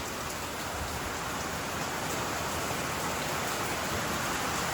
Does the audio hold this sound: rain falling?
yes